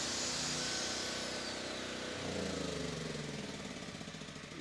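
A welding generator engine running loudly and steadily while powering a grinder, a dense continuous roar with a rising tone partway through.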